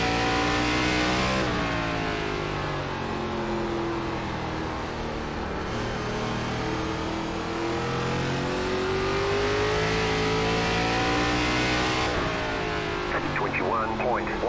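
ARCA race car engine at Stafford Motor Speedway in iRacing, revving hard and continuously up close, with pitch rising and falling through corner entry and exit, while someone talks over it.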